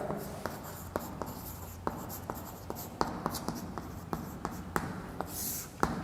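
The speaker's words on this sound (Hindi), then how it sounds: "लक्षण यहाँ लिख लेते हैं" Chalk or marker taps and scratches on a classroom board in a quick irregular series of crisp strokes, recorded close over a steady background hiss.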